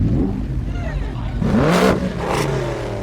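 A Hyundai Veloster turbo engine revs up loudly in a couple of rising bursts, with a whirring roar over a steady low rumble and possible voices underneath.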